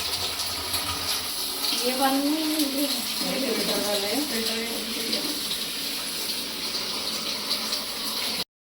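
A kitchen tap runs steadily while meat is washed under it during home iftar preparations, a constant watery rush with a voice speaking over part of it.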